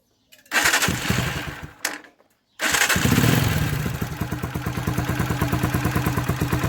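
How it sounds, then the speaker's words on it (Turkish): A Mondial motorcycle engine, just after a valve adjustment, cranks briefly, catches, then settles into a loud, close, steady idle with an even, rapid ticking rhythm. "sivop ayarından sonra motoru çalıştırayım"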